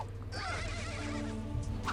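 Horses neigh and whinny in the video game America: No Peace Beyond the Line. One clear, shrill, wavering whinny rises over a low background hum, with faint hoof clatter at the end.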